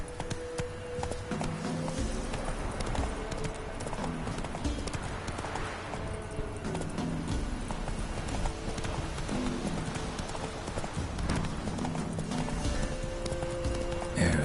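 Hoofbeats of a horse galloping in The Witcher 3: Wild Hunt on PS4, a steady clip-clop rhythm running throughout alongside game music and ambience, with an occasional whinny.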